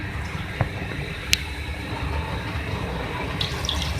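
Steady rushing water fills a cooking pot of beef for aloo gosht, a continuous broadband wash with a couple of brief clinks near the start.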